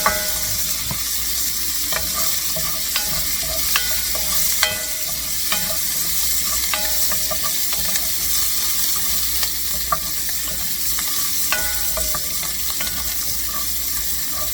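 Green onions sizzle in a pan of bacon fat while a utensil stirs them, scraping and tapping at irregular intervals over a continuous close frying hiss, with no voices.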